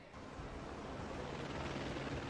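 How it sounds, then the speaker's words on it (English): A helicopter lifts off from a Manhattan rooftop, its steady dense rotor and engine roar filling the scene loud and close without letup, with no talk over it. "Is that a helicopter?"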